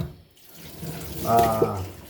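A kitchen tap runs into a sink as a coffee pot is rinsed, a soft steady water stream swelling briefly, close by, with no talk.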